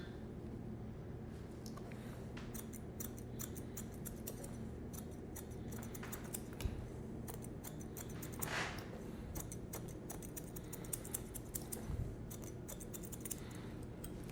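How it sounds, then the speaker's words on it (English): Thinning shears snip through hair in a quick, quiet series of crisp clicks, close and faint over a steady low background hum, with no talking. "just go in with those thinning shears"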